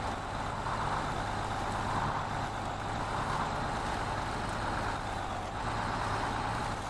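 A heavy truck grinds steadily through deep mud in the Snowrunner video game, with a continuous low engine drone and sloshing wash that stays loud and even throughout, with no talking.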